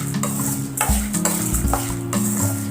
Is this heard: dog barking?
no